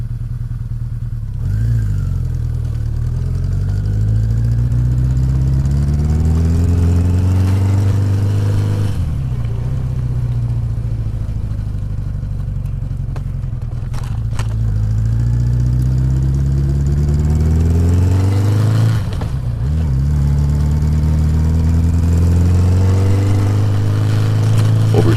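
A 1981 Yamaha XJ650 motorcycle engine runs steadily close by, idling with a low throbbing drone and rising in pitch during several revs, then settling back, with no talk.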